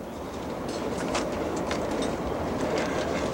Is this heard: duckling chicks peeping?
no